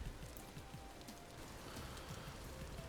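Rain falling in the game Vintage Story makes a soft, continuous patter of drops on surfaces, faint and steady throughout, with no voices.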